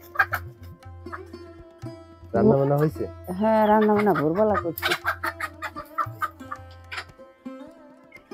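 Chickens in a rural village yard cluck in short bursts and drawn-out calls close by, with people talking intermittently between them.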